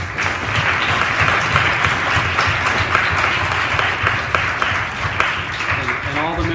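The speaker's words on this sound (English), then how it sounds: "that applause was for you" A dense, sustained round of audience applause following a presentation at the Mailman Center, full and steady from start to finish, with a faint murmur of voices underneath.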